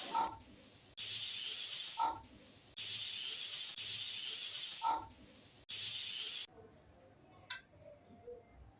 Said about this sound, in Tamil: 5 விசில் வரும் வரை வேக விடணும்.